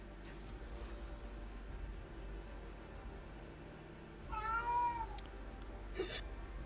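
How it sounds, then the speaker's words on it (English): A pet cat meows in the background of a quiet room, one drawn-out faint tonal cry followed by a shorter chirp over a low steady hum. "was my cat in the background. It was so loud."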